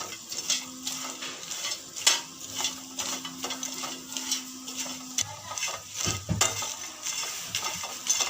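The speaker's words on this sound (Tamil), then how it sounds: "இப்போ நம்ம கருவாடை ஆட் பண்ணிக்கலாம். இது நல்லா வறுத்துக்கணும்." Dried anchovies (karuvadu) fry in a pan for a tangy Tamil fish curry, giving a steady broadband sizzle broken by frequent scraping and clinking of a utensil against the pan, with a low hum running beneath.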